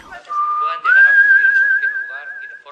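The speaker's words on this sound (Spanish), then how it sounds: "El silbido." A person whistles a steady sustained tone, stepping up in pitch partway through and holding it for about two seconds, close and clear against a quiet background.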